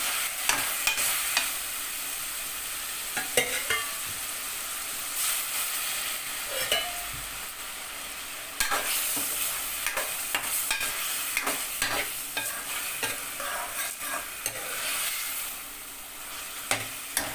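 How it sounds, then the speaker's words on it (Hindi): Chicken handi is stirred in a pan, with steady spoon scraping and soft sizzling that run throughout. No one talks. "अब इसको मिक्स करेंगे हम।"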